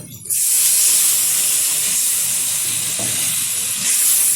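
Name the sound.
water poured into hot pan of spiced fish curry, steaming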